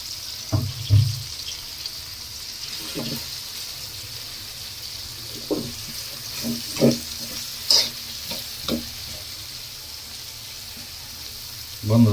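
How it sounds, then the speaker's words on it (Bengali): Onions fry in a pan for a rohu fish curry with potato, okra and tomato, a soft steady sizzle broken by scattered scrapes and clinks of stirring, close and moderately quiet. "এবার পেঁয়াজগুলো এর ভিতরে দিয়ে দিচ্ছি।"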